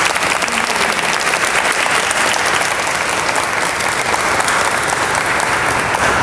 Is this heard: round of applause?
yes